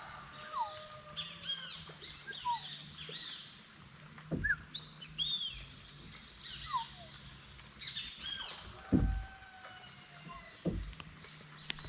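Birds call in the Amazon rainforest during a river boat trip: scattered chirps and whistled notes over a quiet background, with a couple of brief knocks or paddle bumps, no voices.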